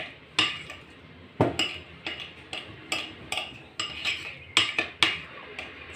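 Utensils scrape and clink against a bowl at a regular rhythm as crunchy potato wedges are tossed and mixed, close and clear with no talking.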